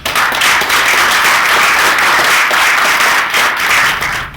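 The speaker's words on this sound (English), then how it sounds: "please welcome Mr. Jeffery D. Jones with a warm round of applause" Sustained, loud applause from a lecture audience welcoming a guest lecturer, dense steady clapping filling the whole stretch without speech.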